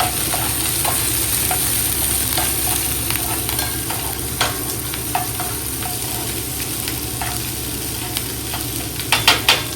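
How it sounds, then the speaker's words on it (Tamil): Onion, green chili and coriander sauté for a goat head curry, giving a continuous, fairly loud sizzle broken by light scraping and clicking as the pan is stirred, with no talk over it. "வெங்காயம், பச்சை மிளகா, கொஞ்சமாக கொத்தமல்லி சேர்த்து வதக்கிக்கலாம்."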